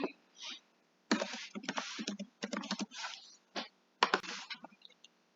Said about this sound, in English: we're just going to type in connect with me in all lowercase